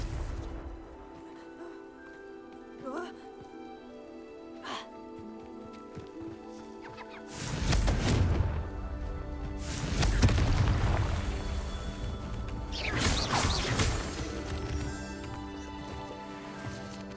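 Confringo blasting spell explosions in the game Hogwarts Legacy: several loud booming blasts with rumbling tails over steady game music and ambience.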